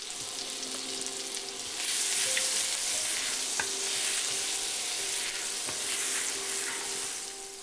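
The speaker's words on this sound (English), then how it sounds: "On medium-high heat, in goes the shallots and garlic." Shallots and garlic fry over medium-high heat in shrimp-flavored oil, a loud, dense sizzle that swells after the first couple of seconds and holds steady, with a few faint utensil clicks and no voices.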